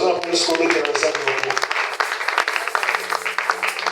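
A church congregation at an Easter service claps and cheers loudly to acclaim Jesus, a steady dense applause lasting throughout with voices calling out among the clapping.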